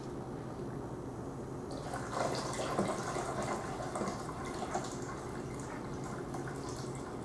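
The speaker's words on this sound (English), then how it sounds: "So I'm going to add the rest of my water now." Warm water is poured into a bowl for a facial steam with frankincense and juniper, a soft, steady splashing trickle that swells midway and then settles, fairly quiet and close.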